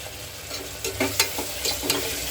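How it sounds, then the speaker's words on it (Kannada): Tomatoes frying in a pan for kurma gravy, a steady close sizzle with occasional stirring scrapes and taps, no talking. "ಇವಾಗ ಟೊಮೆಟೊ ಸ್ವಲ್ಪ ಫ್ರೈ ಆಗಲಿ"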